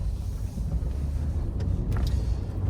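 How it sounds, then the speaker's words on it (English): A Mercedes S500 W220 S-Class with a 5.0-litre V8 pulls away, its steady low engine drone continuous and fairly close, with wind rush and faint brief chirps near the end and no talk. "Now pulling away in the old S-Class"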